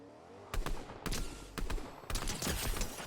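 Repeated bursts of gunfire in a Fortnite match crack in short volleys about half a second apart, fairly distant and low in level, with no talking over them.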